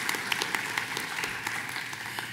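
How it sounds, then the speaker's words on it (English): An audience applauds at a high school senior awards program, with steady crowd clapping throughout and a few sharper individual claps standing out near the front. "One more round of applause for Dr. Dixon and all those students who just received their awards."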